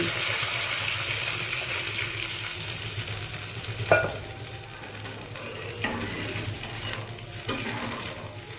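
Water goes into a hot pan holding golden-fried chowmein noodle ingredients. A loud, steady sizzle and hiss is broken by a sharp splash and scrape partway through, then continues more softly with occasional stirring knocks and no speech.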